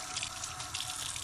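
Clean water runs and splashes steadily as a hog bristle brush used with blue acrylic paint is scrubbed and rinsed under it, a close, continuous wet rush with no talk.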